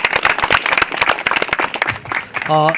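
People clap loudly at a Gujarati wedding, with sharp, uneven hand claps mixed with voices and a brief sung or called tone at the end.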